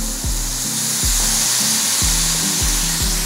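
Bacon frying in a hot pan for a creamy carbonara, a steady broadband sizzle that stays loud and close throughout, with faint low tonal hum pulsing underneath and no talking.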